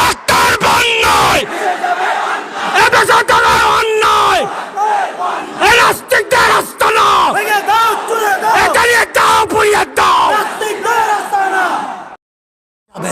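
A large rally crowd roars back the slogan Naraye Takbir in loud, repeated massed shouts, dense and echoing, with brief gaps between surges before cutting off.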